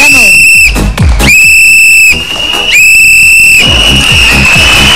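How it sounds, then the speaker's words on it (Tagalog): An emergency whistle sounds three long, steady, shrill blasts with short gaps between them during a lively TV variety show demonstration, then a final long tone as noise returns underneath. "kung may kailangan po kayo, sumipol po ng 3 mahabang beses"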